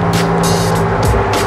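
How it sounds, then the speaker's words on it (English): Golf cart driving along, a steady close motor hum with broadband road and wind noise running throughout, no talk. "You like the golf cart ride?"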